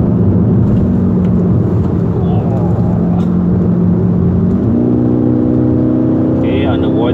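A Kia Optima GT turbo car accelerates on a climbing road, its engine drone steady and loud at first, then the pitch rises as the turbo comes in, heard from inside the cabin.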